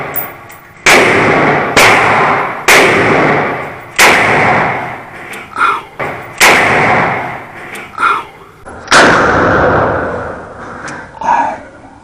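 A Smith and Wesson Model 28-2 Highway Patrolman magnum revolver fires about eight loud, sharp shots close by at an uneven pace, each crack ringing out with a brief echo, and no one speaks.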